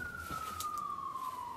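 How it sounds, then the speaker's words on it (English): An emergency vehicle siren on a New York City street wails in a single slowly falling tone, moderately distant over low traffic rumble, heard alone without talking. "ignore the sirens"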